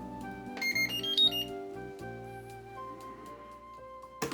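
A rice cooker plays a short electronic chime melody to signal that mochi rice has finished cooking, clear tonal beeps close by in a quiet kitchen, ending with a small clunk.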